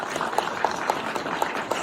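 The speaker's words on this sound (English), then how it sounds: "a round of applause for our pioneers who are sharing" Audience applause for panelists at a geothermal energy discussion, a moderate crowd clapping steadily with a few sharper, distinct claps standing out, with no voices over it.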